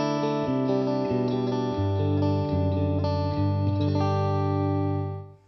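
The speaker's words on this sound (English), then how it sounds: "I'm using this beautiful Music Man Cutlass guitar and a Roland Blues Cube" Music Man Cutlass electric guitar played through a Roland Blues Cube amp: a clean, ringing run of picked notes and chords with sustained harmonics, steady and close, fading out at the end with no talking.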